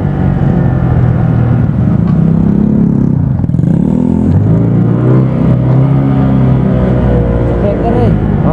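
Loud, close Honda Vario 125 scooter engine with modified CVT revving and droning with rising pitch sweeps, as people talk over it.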